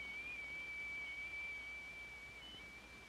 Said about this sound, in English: And the whistling of the tea kettle.